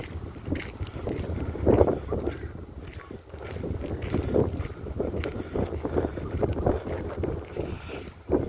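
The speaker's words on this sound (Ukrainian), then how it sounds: "Ох, і вітер." Gusty wind buffets the microphone in a constant rumbling roar, rising and falling, with faint water from canals and a lake and outdoor ambience beneath, in Drachten, Netherlands.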